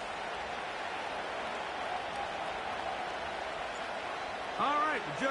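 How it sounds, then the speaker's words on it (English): A stadium crowd roars in an EA Sports football video game, set at Gillette Stadium in Foxborough, as a steady, dense wash of cheering, with a voice briefly speaking near the end. "The crowd is definitely ready."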